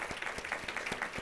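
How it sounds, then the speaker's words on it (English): Audience applause for the Big Five leaders at an opening-remarks gathering, a steady patter of many hands clapping with sharper individual claps poking through, moderately distant and filling the room throughout. "I'd like to clap for you"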